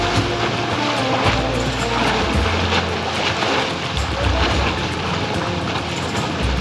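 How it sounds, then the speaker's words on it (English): A sailboat screams across a bay at 7.5 knots while towing a dinghy surfing down the waves behind it, a constant loud rush of wind and water with no talk. "Pulling our dinghy that is surfing down the waves behind us."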